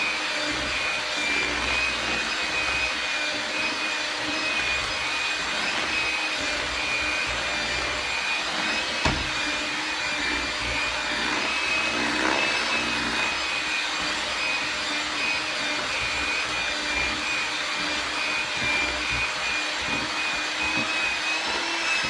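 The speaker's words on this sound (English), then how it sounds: "Add the vanilla. Give that a mix." An electric mixer blends cake batter with vanilla for a lemon coconut pound cake, a steady, droning motor whine holding an even pitch throughout, close and uninterrupted, with no talk.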